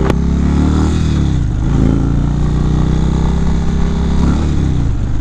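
A 2019 Indian Chieftain motorcycle on a demo test ride, its engine a loud, steady low rumble close by with wind buffeting, holding a constant pace throughout.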